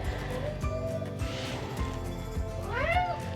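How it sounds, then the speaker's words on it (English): A house cat meows close to the microphone, a few short mews followed by one longer rising-and-falling meow near the end, over a low steady background hum. "So, my cat has decided to join us."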